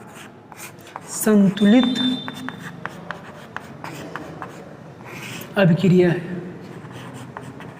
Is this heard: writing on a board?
yes